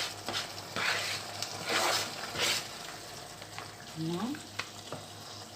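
Peppers go into tomatoes frying in a pan, giving a steady crackling sizzle with a few louder stirring scrapes and bursts, close by, while a brief voice speaks under it.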